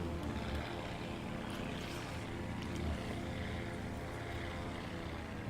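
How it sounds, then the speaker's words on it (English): A flight simulator aircraft's propeller engine drones steadily in a smooth, moderate hum as the throttle is eased back slightly, the tone settling lower and slower, with no voices. "Back off the throttle just a little. You hear it slow down."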